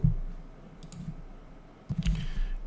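A few close clicks and key taps on a computer keyboard, sparse and brief, with a short cluster near the end and quiet gaps between.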